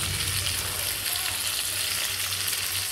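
Eggplant slices frying in a pan give a steady, close, even sizzle with a constant hiss throughout and no talking.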